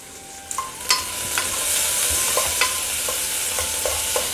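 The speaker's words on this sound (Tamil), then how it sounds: "இப்போ இது நல்லா வதங்கட்டும்." Vegetables sautéing in a pan for a vegetable white kurma, a continuous even sizzle broken by regular sharp clicks and scrapes of a spoon against the pan, close up with no talking.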